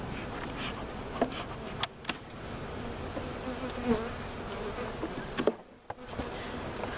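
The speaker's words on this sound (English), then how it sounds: "The bees have all moved up from the cold anyway." Honey bees buzzing at an opened backyard hive in winter, a faint continuous hum with scattered sharper passes of single bees flying close by.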